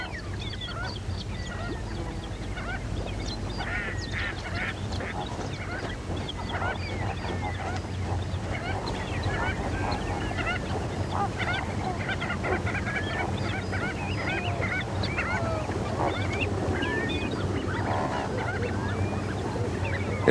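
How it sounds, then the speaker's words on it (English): Tens of thousands of waterbirds crowd the Lake Ichkeul wetland, a dense, continuous chorus of goose-like honks and calls layered over one another and carrying on for twenty seconds without talk. "a spectacle of tens of thousands of birds"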